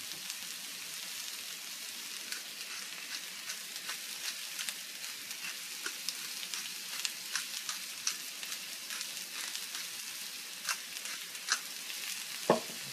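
Seasoned cheesesteak pizza filling sizzles and crackles steadily in a hot pan while being stirred, with scattered louder pops and scrapes over continuous frying hiss.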